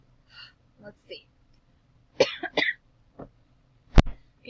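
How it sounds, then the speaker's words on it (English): A few dry coughs and throat-clearing sounds come close to the mic, spaced irregularly, followed by a sharp click and short breaths. "I started coughing, so I had to pause the video."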